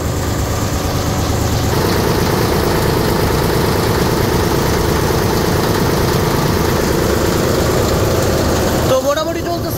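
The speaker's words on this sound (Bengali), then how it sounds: "ছোটোখাটো ইয়ানমার ইঞ্জিন।" A small Yanmar engine runs steadily aboard a passenger launch on a river trip from Narayanganj to Munshiganj, a loud, close, continuous low rumbling drone with vibration that briefly thins near the end.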